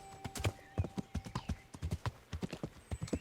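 Horse hooves clip-clop in a steady, uneven trot within the video game Kingdom Come Deliverance, close and distinct, with a brief whinny-like tone mixed in and no talk over it.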